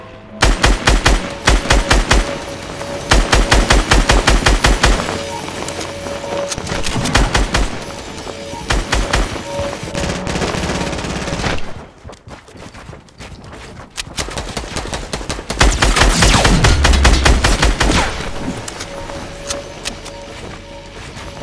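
Rapid automatic gunfire from a Fortnite duos match, loud and close, coming in dense bursts over most of the stretch with a short lull in the middle before another heavy volley.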